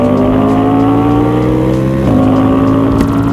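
A Ducati Diavel 1260 motorcycle engine runs loud and close with a steady, throaty drone that shifts pitch briefly near the middle, then holds.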